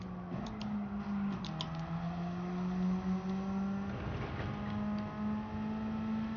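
A car engine in Gran Turismo 7 at Brands Hatch holds a steady high-revving drone that dips and climbs with gear changes and oversteer, with faint ticking above it.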